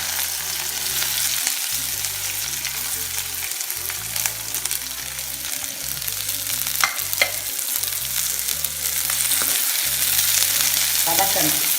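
Mustard seeds and pepper sautéing in a pan give a constant loud crackling sizzle with occasional pops and stirring scrapes, over a low repeating musical background with no talk.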